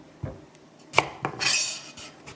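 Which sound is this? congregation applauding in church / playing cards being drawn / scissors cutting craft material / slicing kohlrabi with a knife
slicing kohlrabi with a knife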